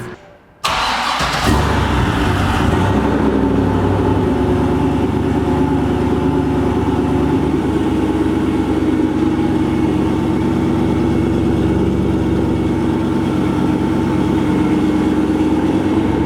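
A Volvo sleeper car fitted with a big-turbo LS6 V8 starts abruptly and then runs steadily, a loud, close, rumbling engine drone that holds without a break as it drives.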